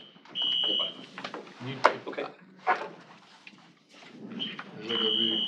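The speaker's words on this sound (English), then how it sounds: "We need recess till we can figure out this stupid fire alarm." Fire alarm sounding in a county board of supervisors meeting room, a high electronic beeping tone in bursts at the start and end, with people talking and room clatter in between.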